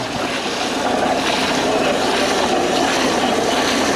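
A pressurized water spray hisses steadily across a stamped concrete patio, agitating freshly pumped sealer, a loud, continuous broadband rush with no pauses.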